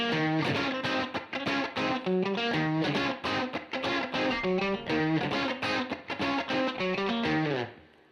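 A distorted electric guitar plays the repetitive chugging riff of a song, with steady muted down-up strums, loud and continuous, ending with a short fade.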